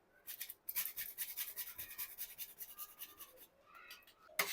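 Whole nutmeg is grated by hand over a laddu mixture, giving soft, quick rhythmic scraping strokes, close but faint, with no talk.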